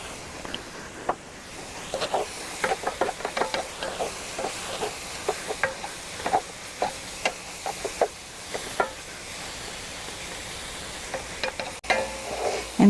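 Mushrooms cook down in a big skillet for a keto chicken casserole, giving off a low steady sizzle. Frequent close scrapes and taps of a utensil stirring against the pan sound over it.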